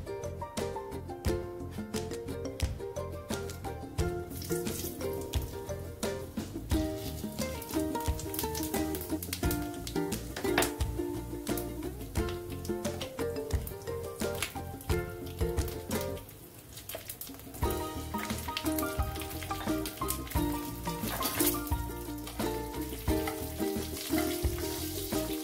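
Whole cumin, bay leaf, dried and fresh green chillies crackling in leftover fish-frying oil, a dense close sizzle with sharp pops, heard under steady background music.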